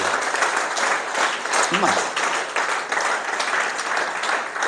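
A church congregation applauds, a dense wash of clapping filling the room throughout, with a voice speaking briefly over it.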